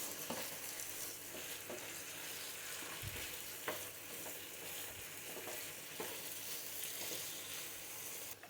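Boiled dried ribbonfish frying in oil with onion and garlic: a faint, steady sizzle with occasional soft clicks and scrapes from stirring, and no voices.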